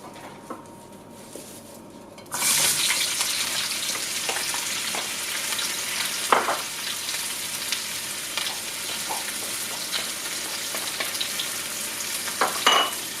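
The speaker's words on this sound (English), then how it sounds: "I'm going to saute them in 4 tablespoons of olive oil" Onions and hot pepper hit hot olive oil in a frying pan, bursting into a loud steady sizzle with occasional clinks and stirring scrapes, no voices.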